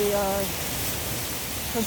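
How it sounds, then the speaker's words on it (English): Waterfall spray falling like rain indoors, a dense steady hiss of falling water filling the space, with a voice talking briefly at the start and end. "It's raining in here. Basically, it's a little bit wet."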